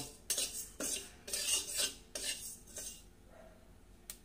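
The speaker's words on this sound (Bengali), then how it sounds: "শুকনো কড়াইয়ে ভেজে নিয়ে বন্ধু এটাকে আমি মিক্সিতে গুঁড়ো করে দেব।" Panch phoron spices dry-roasting in a dry kadai, a spatula scraping and clinking against the metal in several quick, quiet bursts that trail off, with no talking.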